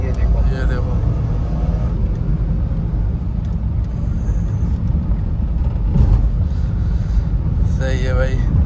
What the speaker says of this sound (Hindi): जैसे ही ये 2000 आरपीएम के ऊपर जाएगा, 2500 आरपीएम, तो टर्बो अपने आप हो जाएगा